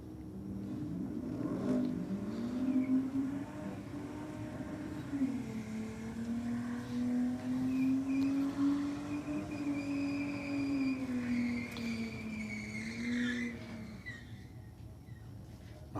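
Holden Commodores doing burnouts on regular street tyres: a sustained, loud engine roar with wavering revs held for the full stretch, heard from a distance with crowd and ambience beneath.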